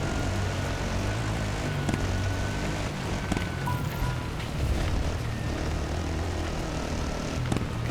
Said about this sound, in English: can't see much with this stinking helicopter overhead